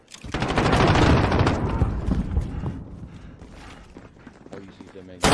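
Automatic gunfire in Call of Duty Modern Warfare multiplayer: rapid loud bursts of shots that fade to scattered rounds, with a player talking over the action.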